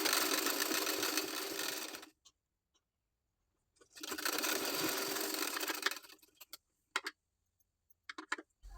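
A sewing machine stitches the side seams of a blouse in two sustained whirring runs, each about two seconds long, separated by a pause and followed by a few short clicks and taps; the sound is close and clear, with no talk.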